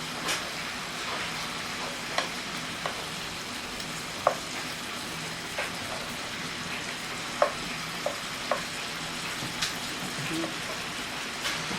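Cajun-spiced shrimp sizzle steadily in a hot pan as they are flipped, a continuous close frying hiss with occasional small pops and clicks.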